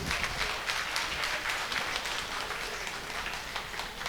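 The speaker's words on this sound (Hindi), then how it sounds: "और एक बार जोरदार तालियां दोनों बच्चों के लिए" Applause for a children's stage dance at a sangeet ceremony, a faint, steady patter of many hands clapping from a distance, continuing evenly without a clear start or end.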